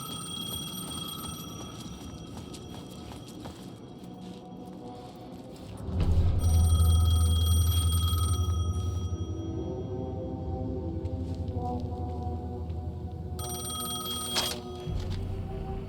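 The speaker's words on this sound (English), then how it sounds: "The payphone was ringing." In Alan Wake 2, a payphone rings with bright, shrill bursts that start and stop. A deep, loud rumble surges in midway and stays under the ringing.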